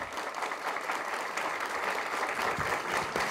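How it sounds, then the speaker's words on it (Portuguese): Audience at a university mathematics lecture course applauds steadily throughout, a dense, even wash of clapping from a full room with no talk on top. "a quem eu peço uma grande salva de palmas"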